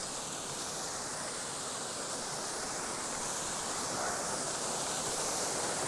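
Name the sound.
waterfall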